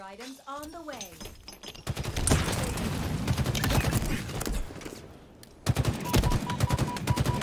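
Rapid automatic gunfire in Halo Infinite, dense bursts of shots rattling for several seconds and then resuming after a brief pause. It is loud and close, with game sounds and a voice briefly at the start.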